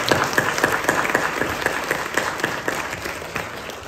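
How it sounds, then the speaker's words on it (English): An audience at a panel discussion on ethnic cleansing applauds a newly introduced panelist with steady, dense clapping that continues evenly for a few seconds. "Please give him a big round of applause."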